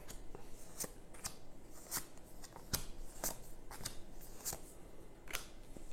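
Playing cards dealt out for a Lord of the Rings trick-taking card game, a steady series of crisp snapping flicks about every half second over a soft, close background hiss.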